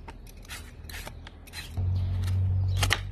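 A freshly dug parsnip being peeled for the freezer, a series of short scraping strokes roughly every half second with a low hum rising partway through, no talk.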